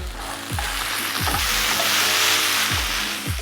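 Vegetables coated in pumpkin paste sizzle and fry quickly in a hot pan for a pumpkin soup, with a steady, close crackle broken by several stirring scrapes.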